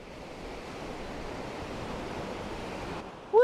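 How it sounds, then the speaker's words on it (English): Ocean waves wash steadily onto the shore in a continuous broadband roar with some wind noise, ending abruptly in a brief loud burst. "Ocean sounds, hopefully."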